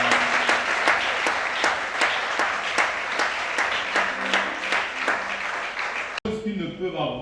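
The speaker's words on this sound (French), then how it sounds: "continue à acclamer" Congregation applauding during a church service, rhythmic loud group clapping in a steady beat for several seconds before cutting abruptly to a voice and music.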